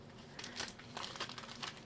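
A cardboard card box tossed aside after unboxing trading cards, giving a quick run of soft crinkling and rustling scrapes, close and faint.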